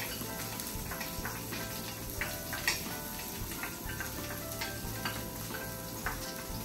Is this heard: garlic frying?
yes